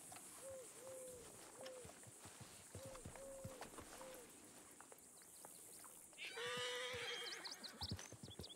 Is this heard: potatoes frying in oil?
no